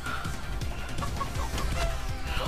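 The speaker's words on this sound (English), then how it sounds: "Who the hell's doing a chicken sound?" Clucking chicken sound effect in Fall Guys-style multiplayer game chaos, repeated short clucks over busy game audio with cannons and effects throughout.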